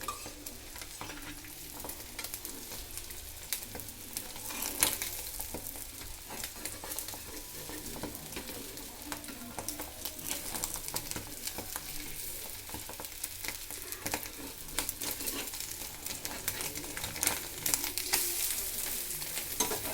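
Continuous sizzling of an onion and green chilli omelette frying in hot oil in a kadai, with a steady crackle and occasional spatters throughout.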